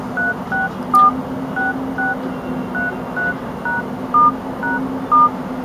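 DTMF keypad tones from an Android phone being dialed: about a dozen short, clear beeps in an uneven rhythm, some paired closely, over a steady low electrical hum, with no talking.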